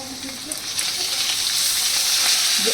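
A spice paste of Kashmiri chili powder, turmeric, salt, sugar and tomato sizzles in hot oil for a potato and chital fish curry, a steady close hiss that builds louder with a few faint stirring touches.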